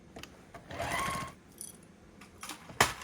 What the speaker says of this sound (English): I backstitch a couple times just in case I do end up using them as carrying handles, and repeat that